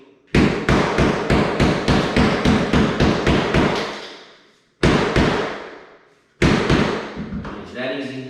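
A rubber mallet strikes laminate flooring at a seam during an installation: a rapid run of about a dozen sharp, loud thuds, a pause, then two more single whacks, each ringing briefly before fading.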